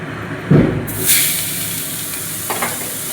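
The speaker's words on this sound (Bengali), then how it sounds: "ওই তেলেই কিন্তু পেঁয়াজটা ভাজা হয়ে যাবে" Sliced onions fry in oil in a home kitchen pan for a Bengali dahi pomfret fish dish, giving a close, steady sizzle and hiss with a brief clatter of stirring near the start and no talking.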